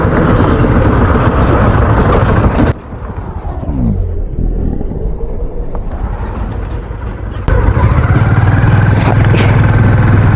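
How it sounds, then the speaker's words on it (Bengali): A motorbike on a rough road with speed bumps, engine rumbling loud and close, then dipping briefly as the bike bounces and clatters over a bump before the roar returns at full level. "বাউন্স করছে বাইক"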